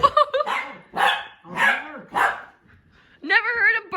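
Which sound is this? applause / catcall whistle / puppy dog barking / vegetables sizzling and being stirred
puppy dog barking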